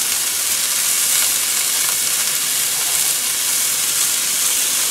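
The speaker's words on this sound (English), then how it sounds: "And now I got to saute this for 3 minutes." Onions and crushed rosemary sauté in a pan for a potato and red onion frittata, giving a steady, even sizzling hiss that holds at the same level throughout with no talking.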